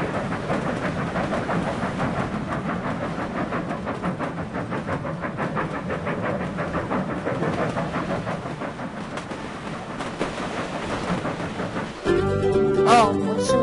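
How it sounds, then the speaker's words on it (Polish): Locomotive running in Sid Meier's Railroads!: a steady, loud rumble with a rhythmic clatter of wheels over track that holds throughout. A burst of different game sound comes in near the end. "Teraz już chyba szybciej jedzie, bo zmieniłem tą lokomotywę."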